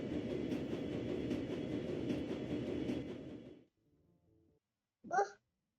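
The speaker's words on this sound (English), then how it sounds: "Board the train." A train travels through a gritty futuristic Berlin, with a steady rumbling, rhythmic clatter that cuts off abruptly, followed by a brief sharp sound.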